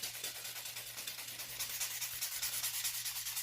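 A white sanding block buffs across a fingernail to smooth away scratches, giving quiet, steady, rapid rubbing strokes in a continuous scratchy rhythm, close up and alone over a faint low electrical hum.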